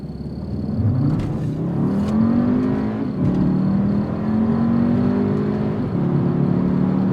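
A Volkswagen Jetta with a DSG gearbox, about 200 horsepower, launches hard, its engine note rising steadily through the gears as it accelerates away, loud and close.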